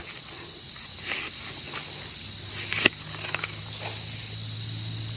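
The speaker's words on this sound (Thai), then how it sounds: "จิ้งหรีดมันอยู่ในรูเอาไม้แหย่รู" A cricket chirps from its burrow in the ground, a loud, close, continuous high trill that holds steady throughout, with faint rustling and one brief tap partway through.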